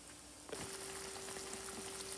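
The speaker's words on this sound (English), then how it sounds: "I'm gonna let that come to a boil and simmer for probably an hour" Rabbit stew in broth comes to a boil and simmers, a close, steady bubbling hiss that swells abruptly after a quieter start and then holds on evenly with no voices.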